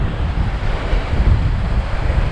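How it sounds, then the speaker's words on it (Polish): Ocean surf and gusting wind on the volcanic-rock shore at Candelaria, Tenerife, a steady loud roar of breaking waves with wind buffeting the microphone throughout, no voices. "A z tyłu mamy wspaniały ocean."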